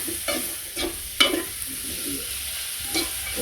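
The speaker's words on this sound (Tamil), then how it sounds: "வெங்காயம் போட்டாச்சு, பொரியட்டும்." Onions frying with dried anchovies sizzle in a pan, a steady hiss under periodic scraping stirs of a spoon, close and clear with no talk.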